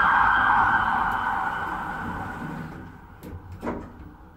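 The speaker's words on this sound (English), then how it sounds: "Doors closing." Car park lift doors sliding shut, a steady high electronic tone fading over a few seconds, then a short clunk and rattle as the doors meet.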